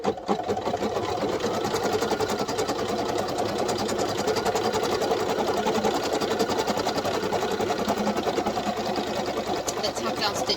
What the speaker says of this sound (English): here's the tack down stitch now